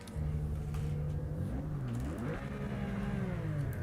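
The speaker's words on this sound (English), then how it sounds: "It still sounds Porsche." Porsche race car engine in the racing game Project Motor Racing, a steady close hum with pitch dipping and rising as the revs change, heard alone.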